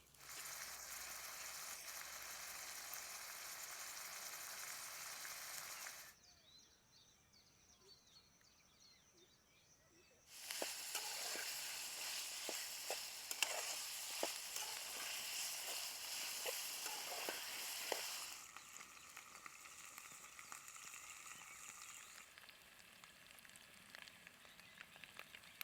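Chicken pieces frying in coriander paste give a steady, bright sizzle with a brief quieter pause, then louder crackling and spitting before settling to a softer hiss.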